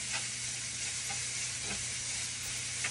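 Pad thai ingredients sizzle in a wok over high heat, a constant frying hiss broken by occasional soft scrapes as they are stirred.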